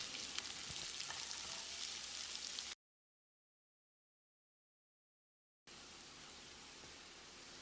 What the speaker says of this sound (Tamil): இதை போட்டு பொன்னிறமாக வதக்கிடலாம்